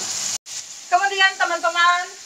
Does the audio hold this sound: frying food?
yes